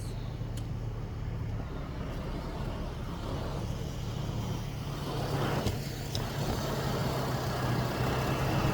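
A Chevrolet Trailblazer engine runs steadily at a held 2200 RPM with the air filter removed, giving a continuous, even drone close by with no talk over it.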